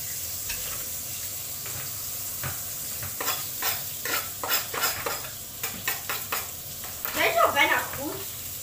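Hamburgers frying in a pan in a home kitchen, a steady sizzle running throughout with occasional scraping and utensil clinks, close and fairly loud, with no talking.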